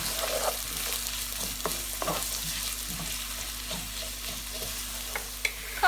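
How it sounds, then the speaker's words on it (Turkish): One large onion sautés in heated vegetable oil in a pan, a steady close sizzle and crackle running throughout, with occasional scrapes of stirring. "Sıvı yağımızı ısıttık ve şimdi üzerine bir büyük baş soğanımızı ilave edip soğanımız pembeleşinceye kadar kavuralım."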